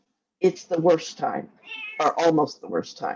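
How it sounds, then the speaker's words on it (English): A pet cat meows once during a late-morning online talk, a short tonal call between stretches of close speech, with a person talking before and after it. "Please excuse my cat; she's being very helpful."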